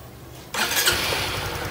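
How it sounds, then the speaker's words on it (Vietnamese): A Honda Winner 150 motorcycle with long-neglected water damage fires up on a single press of the starter, then settles straight into a loud, steady idle close by. "Này bấm một phát là nổ máy liền."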